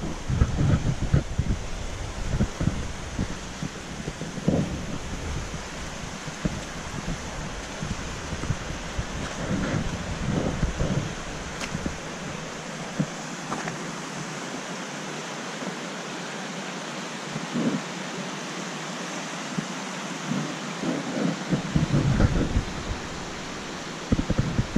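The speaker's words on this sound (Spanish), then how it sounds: "Este ruidillo del agua es muy agradable y relajante." The Pisuerga river runs past a snowy village at Ruesga, a steady broadband rush of flowing water that holds on throughout, with a muffled low rumble in places.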